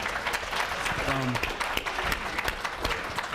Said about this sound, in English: Another round of applause for all of the contestants